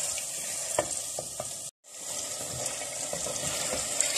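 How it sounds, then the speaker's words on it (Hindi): Chicken pieces frying in a pan for restaurant-style chicken makhni give a steady, close sizzle with a few stirring clicks. The sizzle cuts out for a brief moment midway, and no one speaks. "और इस चिकन को थोड़ी देर के लिए इसमें फ्राई करेंगे ताकि चिकन जो है वो पिंक से वाइट हो जाए"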